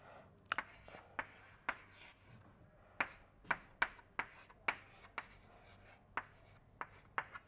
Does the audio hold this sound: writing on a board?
yes